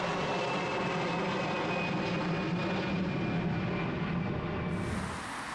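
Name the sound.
airplane flying overhead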